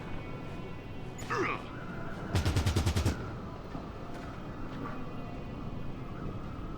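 A rapid burst of automatic gunfire in the Fallout Tactics: Brotherhood of Steel game, roughly eight quick evenly spaced shots lasting under a second, set among other game sounds and a faint background hum.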